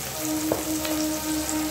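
Minced chicken fries in a pan with a steady, close sizzle that sounds like light rain, broken by a faint stirring scrape near the middle.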